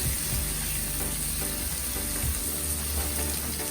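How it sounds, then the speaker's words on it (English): Masala spices for misal sizzle and crackle in a hot pan while being stirred, a continuous close frying hiss with occasional scraping clicks and no voices. "Now you stir all the masalas. अब क्या है, मसाला को भी अच्छे से भूनना पड़ता है."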